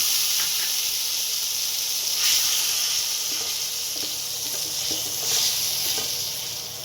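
Cumin, coriander powder and chilli powder sizzle hard in hot oil for sabudana khichuri, making a close, bright hiss with little surges and crackles as they are stirred.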